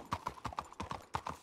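Horse hooves clip-clop in the western roleplay video game RedM, a quick, even run of about ten sharp hoofbeats at close range over a quiet background.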